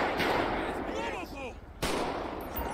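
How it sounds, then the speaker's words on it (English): Gunfire in GTA 5 during an LSPDFR police patrol, with a couple of sharp shots near the start and near the end over busy game noise, plus a faint voice. "Another guy shooting at me."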